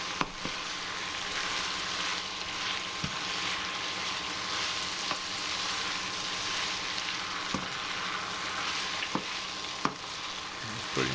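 Crispy beef stir-fry sizzles steadily in a pan on the hob, a constant close crackle broken by occasional scraping clicks and knocks as the pieces are stirred, with no voices.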